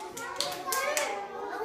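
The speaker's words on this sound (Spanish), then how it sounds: "Aplauso a Matías." Children clapping in a brief, scattered round of applause for a boy named Matías, with a few sharper claps standing out against a steady patter.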